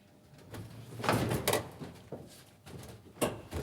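An aircraft cabin door being operated during 1990s airline cabin crew training, giving a few loud mechanical clunks and thumps spaced across a few seconds, with no talk over them.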